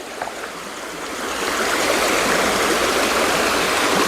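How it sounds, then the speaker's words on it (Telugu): Steady rushing water of the Rotenta stream near the Karre Gutta hills and Bijapur forests, broadband and continuous, growing slightly louder after the first second and flowing without pause. "చాలా స్పీడ్గా వస్తుంది వాటర్ కూడా"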